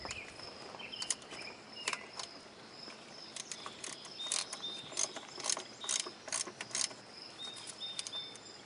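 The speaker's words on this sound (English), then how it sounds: "I like to use the little socket wrench so that I don't over torque these." A small socket wrench ratchets in short bursts of rapid clicks while tightening the fuel injector bolts on a Toyota 22RE engine, the clicks close and fairly crisp with quiet pauses between strokes.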